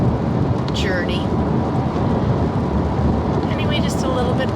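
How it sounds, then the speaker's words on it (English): Rain while driving a road in West Virginia: a dense, loud wash of rain and road noise fills the whole clip, steady and broadband, with no voices. "The rain is a little bit intermittent"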